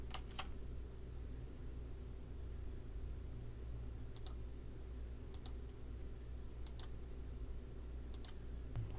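A computer mouse clicks in sparse, sharp pairs and singles, close and quiet over a low steady hum of a fan.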